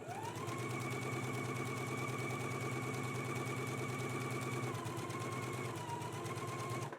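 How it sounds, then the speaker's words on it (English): A sewing machine runs long basting stitches along a pattern line on a Gunne Sax dress. Its needle chatters in a steady, close, continuous hum, and the pitch eases slightly near the end before it stops. "just going to use a machine baste and just baste right here along this line here that's on the pattern"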